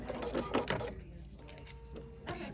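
A sewing machine stitches a fabric wristlet pincushion in a short burst of rapid mechanical whirring, then stops and leaves a quiet hum before a brief final tap.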